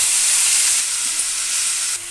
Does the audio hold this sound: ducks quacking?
no